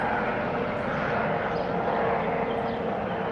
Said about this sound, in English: Coast Guard, Department of Homeland Security helicopter chasing Cessnas outside of DC